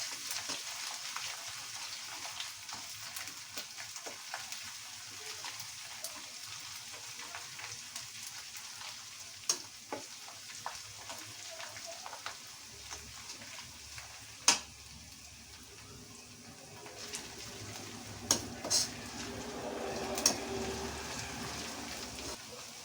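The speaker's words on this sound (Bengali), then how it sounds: "আদা বাটাটা একটু ভেজে নেব" Ginger paste fries in a pan in a faint, steady sizzle under low background noise. Occasional sharp clicks and taps of a utensil against the pan break through it.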